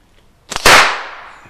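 A rimfire cartridge fitted into a drilled piece of slingshot ammo goes off once, giving a single loud, close, sharp crack that tails off in a short decaying rumble.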